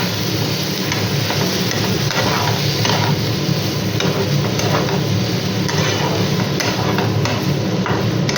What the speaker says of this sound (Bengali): ভালো করে মশলাটা দিয়ে কষিয়ে নিচ্ছি